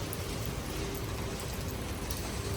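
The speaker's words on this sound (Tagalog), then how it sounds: "Ngayon lang ulit umulan ng malakas." Heavy rain pours steadily in Hong Kong on a wet morning, a dense, even hiss of drops falling on surfaces close by, with no voices.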